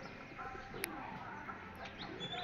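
Pigeons kept for sale in Tirunelveli coo softly outdoors on a sunny day, faint and somewhat distant, with a few chirps over a steady background hum.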